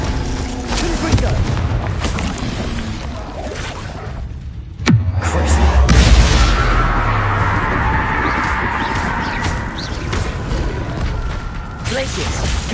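Spell blasts ring out in the Hogwarts video game, a loud booming impact with a sharp crack near the middle, followed by rumbling energy and crackle while voices shout spell names over the top.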